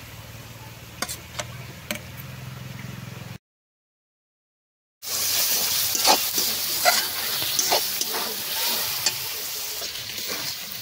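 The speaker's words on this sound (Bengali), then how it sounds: "আদা রসুনটা খুব ভালো করে ভেজে নিয়েছি" Ginger garlic paste frying with onion in a pan for spicy masala chicken, a steady sizzle with scraping stirs and ticks, broken by a short silent gap before louder, busier frying resumes.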